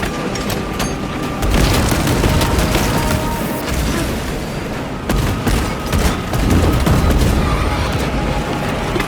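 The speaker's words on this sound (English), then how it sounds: "Deploy frag grenade!" Loud, dense battle noise from Warhammer 40K Space Marine 2: heavy booming frag grenade blasts and rapid gunfire hammer on continuously, with several sharp impacts standing out and no clear talk.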